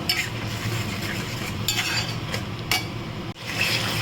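Papaya kofta spice mix is stirred and fried in a pan, giving a steady sizzle with a spoon scraping and clinking against the metal throughout.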